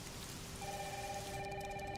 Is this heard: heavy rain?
yes